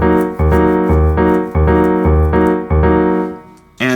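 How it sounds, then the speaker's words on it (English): Notation-software playback of a jazz tune's first figure looped over and over in 3/4 time, synthesized chords and bass pulsing in even repeating bars, loud and continuous before a brief fade, with no voice. "One other way that we could make this a 3/4 measure is we could just take that first figure and have it repeat over and over."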